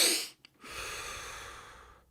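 A person takes fast, deep breaths in, loud close airy inhalations with a brief pause between, demonstrating a rapid breathing pattern.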